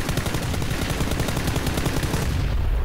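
Rapid bursts of automatic gunfire from a PUBG battle royale match, loud and continuous with dense overlapping shots and no talk.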